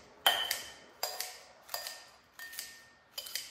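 Knife chopping food in a gigantic bowl, five crisp clinking cuts spaced about once every three-quarters of a second, close and clear against a quiet kitchen.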